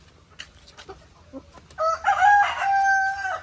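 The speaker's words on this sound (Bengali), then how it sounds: "দেখতে পাচ্ছেন তো এই তিনটে দেশি মুরগি রয়েছে এখানে" Desi hens and a rooster on a poultry farm: a few faint clucks, then a loud, close rooster crow lasting over a second, with no talking.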